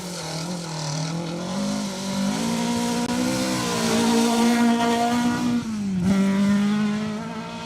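A two-wheel-drive rally car passes at speed on a forest stage at the Trackrod Rally Yorkshire, its engine loud and close, revving and rising in pitch before easing off and climbing again.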